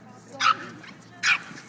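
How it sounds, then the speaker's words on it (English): A small dog gives two short, high yapping barks, spaced apart and fairly close, outdoors by a federal building in Miami. "Watch out for the little doggy."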